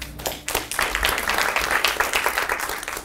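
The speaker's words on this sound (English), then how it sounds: "Big round of applause, please." Audience applause at an evening talk on cannabis science, many hands clapping in a dense, steady burst that swells quickly and holds at a moderate level, with no voices over it.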